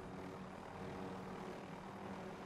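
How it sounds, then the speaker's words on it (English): A helicopter flies in the video game Call of Duty Warzone, giving a faint, steady whirring engine drone that holds throughout with no voices. "Run him over with the helicopter."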